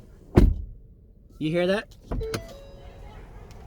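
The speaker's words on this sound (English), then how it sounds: "when we open and close the door, this area here makes a lot of noise" A Ford Flex car door shuts with a sharp, heavy thud, followed by a short spoken question, then a second solid door thud and a faint lingering hum.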